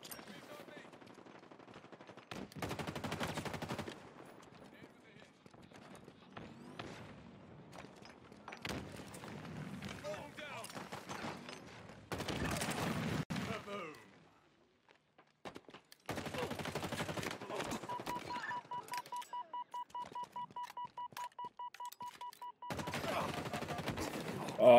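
Halo Infinite gunfire comes in repeated automatic bursts of varying length, loud and up front, with short quiet gaps and a rapid ticking stretch near the end.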